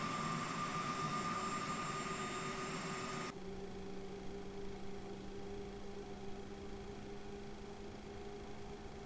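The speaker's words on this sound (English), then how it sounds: "Engine left is started." A Boeing 737-300 left jet engine starts up in the X-Plane 11 flight simulator, droning with steady tonal whines, then shifting abruptly to a lower, settled hum as it reaches a stable running pitch.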